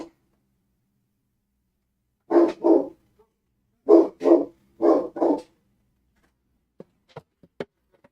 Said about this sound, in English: My dog just saved us from the other dog walking across the street.